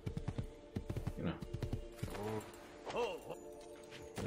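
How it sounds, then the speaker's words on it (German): Quick clip-clopping hoofbeats of a horse in the video game Assassin's Creed 2 sound at the start, followed by a whinny and snorting, with people talking over it. "Pferd."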